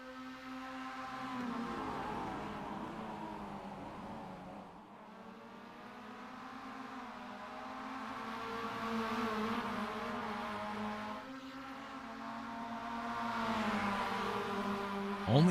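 Several MX-5 Cup race cars in a sim racing game drive through the final corners, their engines revving and droning with rising and falling harmonic tones, continuous and fairly loud with shifts between gears.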